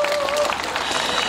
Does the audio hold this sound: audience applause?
yes